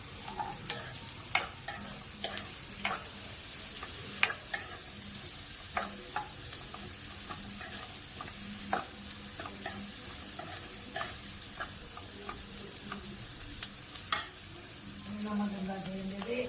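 Curry leaves and onions fry in a pan with a steady, close sizzle and crackle, punctuated by frequent sharp pops and spatters, with no talking.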